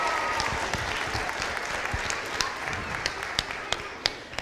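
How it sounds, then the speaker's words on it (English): Audience at a rock and roll show claps for a middle school band teacher, a busy spread of many hands with a few sharper individual claps standing out near the end, moderately loud and steady. "Would you give a round of applause to Mr."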